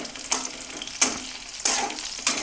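Leaves frying in hot mustard oil, stirred with a spatula: a continuous sizzle broken by four sharp scraping strokes spaced roughly half a second apart, close and clear with no talk.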